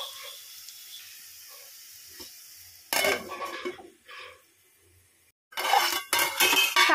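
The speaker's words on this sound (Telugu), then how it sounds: "ఇప్పుడు మనం మూత పెట్టుకుందాం." A metal lid clanks onto a pan of bitter gourd frying on low flame. Soft sizzling comes first, then two sharp bursts of clattering cookware, with brief metallic clinks between them.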